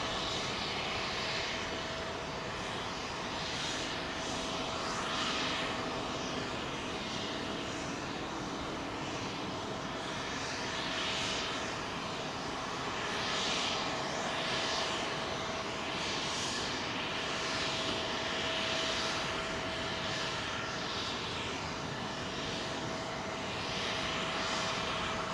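British Airways airliner on Heathrow runway 27L, a distant, steady engine rumble with a faint sustained whine, holding at an even level throughout without voices.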